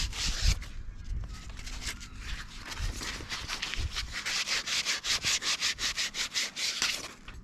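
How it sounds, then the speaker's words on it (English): Soldered copper pipe is rubbed with sandpaper to clear off flux, first in uneven scrubbing and then in a fast, regular back-and-forth rasp, close and moderately loud. "Give it a nice buff with the old sandpaper."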